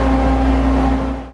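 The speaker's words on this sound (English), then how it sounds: "Amphibious military vehicle." An amphibious military vehicle engine drones steadily with a deep low rumble and a constant hum, close and loud, fading out at the very end.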